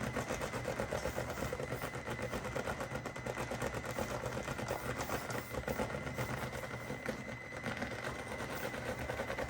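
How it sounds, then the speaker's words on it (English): Traxxas TRX4M RC crawler's small electric motor straining uphill under heavy throttle, a continuous buzzing whir with rapid rattling texture, faint and steady throughout with no voices. "Just have to give it a surprising amount of throttle to get it to move with this motor up a hill like this."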